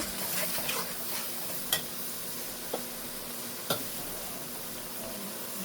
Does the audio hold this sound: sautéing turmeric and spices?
yes